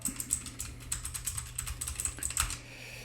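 Clicky typing on a mechanical keyboard, sharp distinct key strikes in an uneven rapid rhythm, close and moderately quiet, with no voices.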